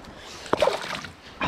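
A largemouth bass splashes at the surface beside anglers' boat, a sharp slap of water followed by a brief, fading slosh, close and moderately loud with no talk.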